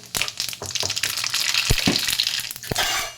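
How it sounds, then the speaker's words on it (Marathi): Cumin and mustard seeds sizzle in hot oil in an iron pan, giving a loud, crackling frying hiss with rapid popping bursts that swell and fade over a few seconds. "लोखंडी तव्यात एक दोन चमचे होईल एवढं तेल घातलेलं आहे तेल तापलेलं आहे त्याच्यामध्ये आता मी हे जिरे थोडेसे घालते मोहरी घालते"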